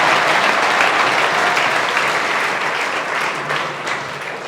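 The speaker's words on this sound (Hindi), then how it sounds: "जोरदार ताली बेटा" Schoolchildren in a classroom clap loudly and continuously, a dense, close wall of applause that fills the whole moment and tapers only slightly toward the end.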